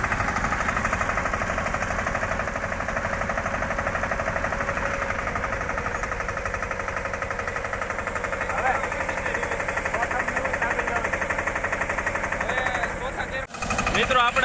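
Two small tractors, a Massey 5118 and a 15 hp Steeltrac, running together at 1500 rpm in reverse gear, a steady close mechanical engine drone with dense rapid pulsing throughout and a short break near the end.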